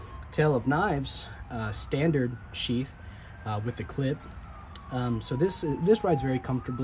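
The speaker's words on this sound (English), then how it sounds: "Sorry for the siren in the background." A distant siren slowly wails and falls in pitch in the background while a person talks close by.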